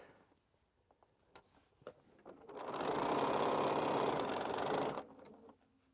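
A sewing machine stitches string quilt pieces in one steady whirring run of about two seconds. A few light clicks and handling taps come before it, and the motor winds down afterward.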